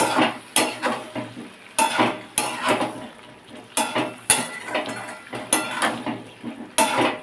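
A spoon repeatedly scrapes and knocks against a pot while chana dal and papaya are stirred together, giving a rhythmic series of loud, close clanks and scrapes with brief pauses between strokes.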